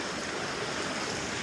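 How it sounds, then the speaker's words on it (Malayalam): A small forest stream runs over rounded stones near the Vazhvanthol waterfalls, giving a steady, close rushing and gurgling wash with no voices. "ഇതാണ് കാട്ടരുവി സുഹൃത്തുക്കളെ"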